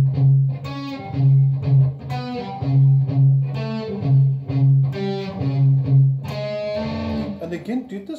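Electric guitar riff from Doom, played slowly with hammer-ons: repeated low chugging notes broken by higher accents in a steady rhythm, close and fairly loud, ending on a denser strummed passage.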